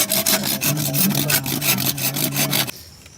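Rhythmic back-and-forth rasping of a saw through bamboo, fast regular strokes, close and loud, stopping abruptly near the end.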